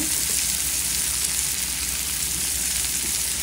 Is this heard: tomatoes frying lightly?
yes